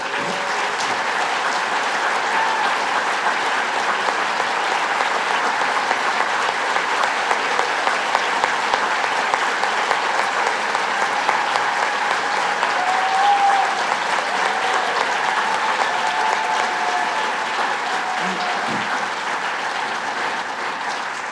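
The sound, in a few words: audience applause at gala dinner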